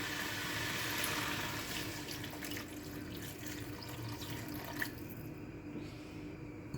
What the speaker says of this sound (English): So now I am going to add some water.